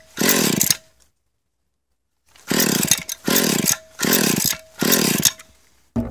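An untuned Stihl 020AV chainsaw being revived: one long rev, a pause of near silence, then four loud close bursts of raw, rasping engine roar in an uneven rhythm, the last just starting as it ends.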